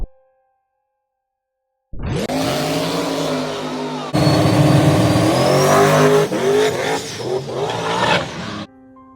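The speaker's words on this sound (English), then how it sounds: "Everybody loves drag racing wheelies." Drag racing car launching into a wheelie: near silence, then a loud engine roar bursting in and climbing through revs with a sharp step up midway, sustained and close until cutting off near the end.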